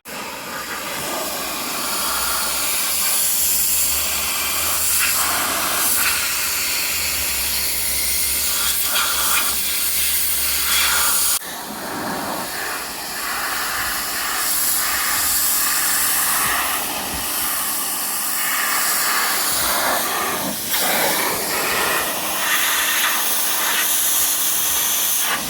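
Rust being sprayed off an old trailer with a high-pressure spray, a loud continuous hiss that runs for the whole stretch, with a brief break partway through and again near the end.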